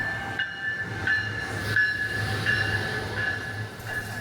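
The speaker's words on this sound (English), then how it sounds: "When the train arrived" A nine-car Northeast Regional passenger train with locomotives at each end arrives at Newark, Delaware station: a steady, loud rail rumble with a sustained metallic whine and periodic clunks, and no talking.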